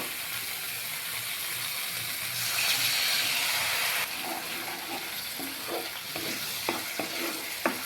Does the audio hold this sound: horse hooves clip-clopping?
no